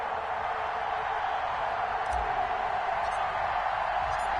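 Stadium crowd at a Las Vegas Raiders versus Kansas City Chiefs game in an EA Sports football video game, a steady, moderately loud roar of cheering under a commentator's talk.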